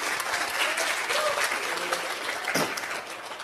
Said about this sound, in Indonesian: sok silakan mau tepuk tangan